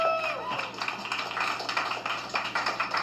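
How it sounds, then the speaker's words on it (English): A live comedy crowd claps and cheers as a comedian is introduced, steady applause with scattered hand claps and crowd noise carrying through the whole stretch. "I want you all to clap it up. Make some noise for Mr. Dave Sheehan"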